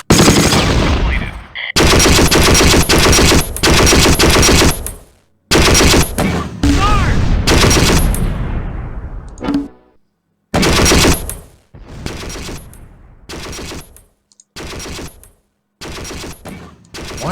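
Heavy bursts of machine-gun and rifle fire in the Signal Fire: Close Combat game, Wacht am Rhein battle, loud and close, coming in long sustained volleys broken by short pauses, with brief voice lines in between.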